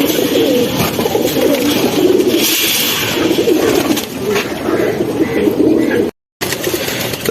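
Silver and beji pigeons coo steadily at close range, their soft throaty calls repeating over a continuous background hum, with a brief dropout near the end.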